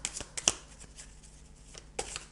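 Tarot cards shuffled by hand up close, a quiet run of soft riffling flicks and slaps with a few sharper snaps, irregular and brief.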